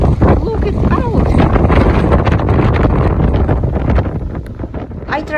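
Strong wind blasts across the microphone in heavy, rumbling gusts while a person talks underneath, their voice partly drowned out, beside locks and bridges on the River Shannon in Ireland.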